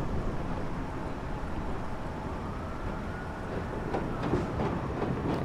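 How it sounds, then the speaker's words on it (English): An old subway train in the World of Subways 4 game, on local service from the depot to Times Square, accelerates with a steady low rumble and rising motor whine, with faint clicks of wheels on track throughout. "They're not really fast accelerating trains, these old subway trains, but they get up to the speed they need to go."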